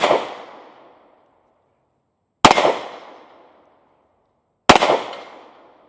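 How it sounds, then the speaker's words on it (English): Three sharp, loud shots from a Smith & Wesson Bodyguard 2.0 pistol fired one-handed at a range, each crack spaced about two seconds apart and trailing off in a brief echo. "let's go ahead and load our last 10 round magazine, and let's see, just take some one hand shooting, say from the pocket"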